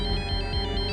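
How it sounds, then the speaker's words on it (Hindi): A mobile phone ringtone rings at night, a steady repeating electronic tone pattern, loud and close, with no voices over it. "उस रात जब मैं सो रहा था मेरे फोन की घंटी बजी थी।"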